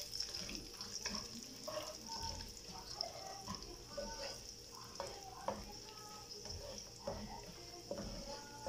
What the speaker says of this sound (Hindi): बस हल्का सा हमने इसको फ्राई करना है इन सारी चीज़ों को।